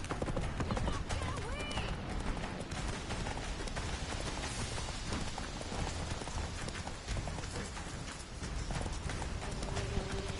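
Video game horse Roach galloping, with quick rhythmic hoofbeats over a dense, loud game soundscape of music and effects, with voices talking over it.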